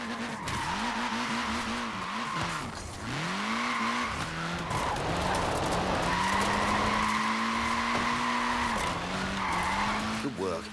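A Mini's small tyres squeal and skid through a drift in Forza Horizon 4, with long wavering screeches over a loud, steady engine roar that continues for the whole stretch, and voices are heard over it.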